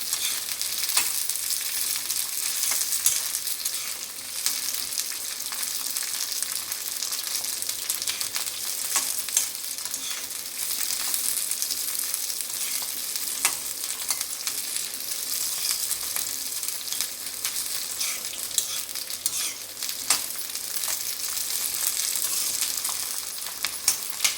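Brinjal pieces and cut green chillies frying in a pan for spicy chutney, a loud, dense, continuous sizzle that stays even throughout with no voices.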